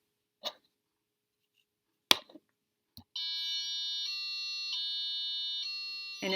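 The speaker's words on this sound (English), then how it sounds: "it's alarming you right now to let you know that the baby is on its stomach" A few sharp clicks and taps, then a Sense-U 2 baby monitor sounds its alert: a steady electronic tone that changes pitch in repeating steps, close and clear.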